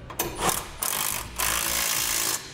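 A 3/4 inch socket and wrench tighten bolts securing a gooseneck hitch center section to cross members on a 2008 Ford F-450, giving several quick ratcheting bursts with short pauses, close and alone.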